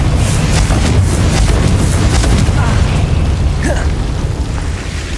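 A Confringo fire spell explodes in the video game Hogwarts Legacy, a loud, dense, sustained booming roar with rumbling low end and crackle, slowly fading over several seconds.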